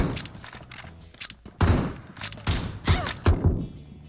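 Gunfire in the mobile battle royale video game PUBG Mobile: a run of sharp, punchy shots in quick bursts and single cracks, loud and close, spread irregularly across the moment.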